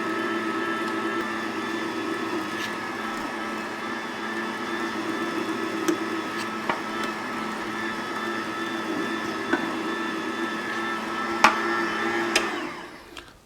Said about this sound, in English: I'm just going to probably grind this one time through on the fine